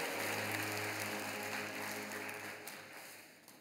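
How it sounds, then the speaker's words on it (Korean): A Sunday worship congregation claps to welcome members, a soft, distant wash of applause under a steady low hum in the sanctuary, fading a little toward the end. "우리 교우들 향해 여러분께 박수로 환영하시죠"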